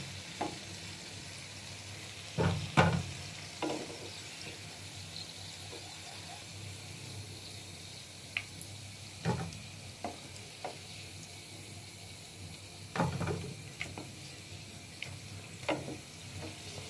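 Vegetable rolls made with winter vegetables fry in hot oil, a steady soft sizzle broken by scattered clinks and scrapes as pieces are lifted out one by one.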